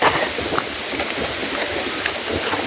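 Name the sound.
rain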